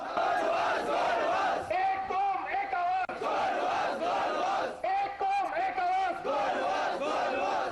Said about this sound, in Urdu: گو نواز گو کے پرشگاف نعرے لگائے